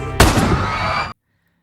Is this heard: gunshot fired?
yes